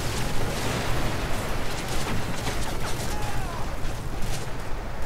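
Explosions and battle noise from the Call of Duty: Modern Warfare 3 video game, with tanks and a helicopter nearby, form a dense, continuous roar of blasts and rumbling gunfire that runs steadily throughout.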